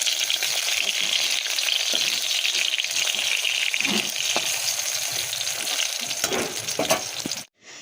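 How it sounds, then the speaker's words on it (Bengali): Sliced pointed gourd (potol) frying in oil over a high gas flame gives a loud, continuous close sizzle with occasional crackles and stirring clicks. "দেখছি পটল ভাজাটা জোরে গ্যাস ছিল"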